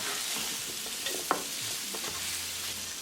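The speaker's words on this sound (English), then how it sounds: "Cooking spices with the tadka for a half minute, add paneer." Paneer sizzles in hot oil with a spice tadka while being stirred, a steady frying hiss broken by a few clinks and scrapes of the spoon against the pan.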